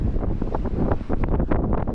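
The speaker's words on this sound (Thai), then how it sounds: "จะบอกว่าลมแรงมาก" Strong gusts buffet an outdoor microphone at an Ironman Wales triathlon, a continuous rough low roar with uneven surges, loud and close throughout with no talk.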